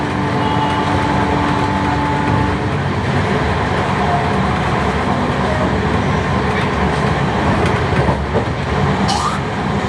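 Continuous rumble of a train running on tracks toward New Jalpaiguri station, heard from inside, with a faint tone early on and a brief squeal near the end.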